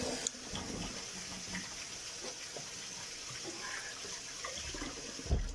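Water running steadily from a tap into a sink as hands are washed with soap, a continuous close splashing hiss with a small clunk near the end.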